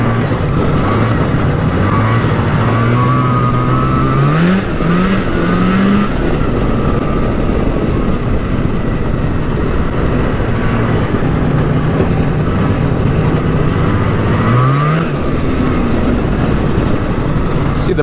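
A cheap used snowmobile engine runs loud and close, revving up in rising pitch sweeps twice over a steady droning idle, with some talk underneath.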